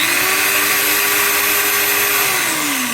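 An electric drill machine running as a steady, loud motor whine with a fixed pitch that dips slightly near the end, with no talk over it.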